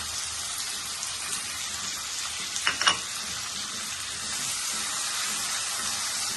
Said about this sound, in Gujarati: થોડુંક એને આપણે સોટે કરી લઈ